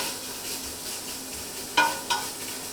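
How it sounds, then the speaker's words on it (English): Lardons fry in their own fat in a pan for beef bourguignon, giving a steady soft sizzle broken near the end by two sharp clinks of a utensil against the pan. "When bacon cooks, the sound changes as the water evaporates and it begins to brown"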